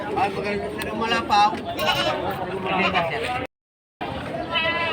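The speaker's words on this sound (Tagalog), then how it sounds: "Amerikana ho ang kambing na ito." American goats bleat repeatedly at a livestock market in Padre Garcia, Batangas, wavering cries close by among other animals, with people talking and a brief dropout near the end.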